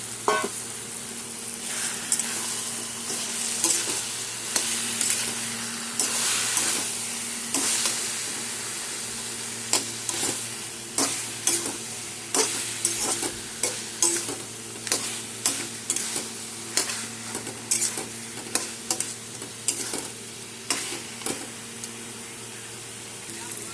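Taro leaves cook with a fried fish head in a pan, giving a steady sizzle and hiss throughout. Rhythmic scraping stirs grow more regular toward the end, close and moderately loud.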